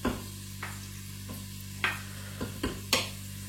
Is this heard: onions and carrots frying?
yes